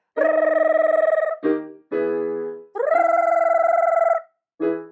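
A voice imitates a ringing telephone with bright, buzzy sung tones in a vocal range exercise, several sustained rings alternating with shorter lower bursts, loud and close.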